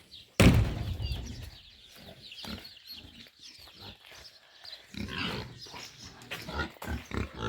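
Farm pigs grunting and snorting close by, a loud opening burst followed by irregular low grunts, with hens clucking in the background of the barnyard.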